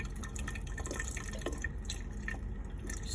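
Water poured out of a container during an osmosis lab, a steady trickling and dripping stream heard close up against faint room noise, continuous for a few seconds.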